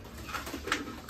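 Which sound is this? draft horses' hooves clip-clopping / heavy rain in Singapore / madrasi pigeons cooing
madrasi pigeons cooing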